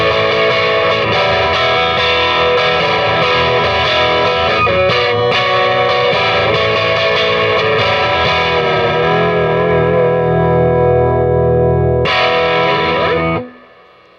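Fender Jaguar electric guitar on its soloed middle pickup, run through effects, plays a continuous dense strummed passage with chorus and overdrive, loud and close, with a final chord before cutting off abruptly.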